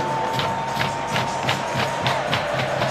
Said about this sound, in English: this crowd is ready to blow the roof off